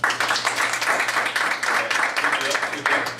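An audience at a live comedy hypnosis show bursts into loud, close applause in surging waves, with crowd voices and cheering mixed into the clapping.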